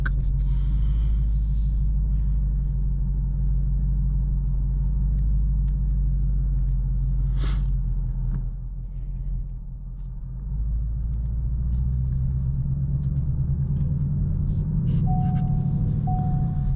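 A Ford Mustang Mach 1 pulls out of a parking lot in daylight, its engine giving a steady, loud low rumble that swells and eases as the car moves, with no talking over it.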